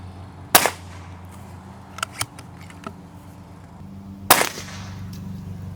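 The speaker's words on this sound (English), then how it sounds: "Let's shoot that at 80 feet." A Pinty Timber Classic PCP air rifle fires two sharp, loud cracks several seconds apart at a target 80 feet away, with small clicks between the shots and no talking.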